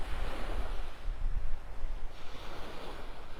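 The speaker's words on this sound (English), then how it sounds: "It's really breezy. Good strong wind coming out of the northeast still." Strong northeast wind buffets the microphone over breaking surf at Barefoot Beach near Wiggins Pass, a loud, continuous rush of wind and waves with gusty swells and no voices.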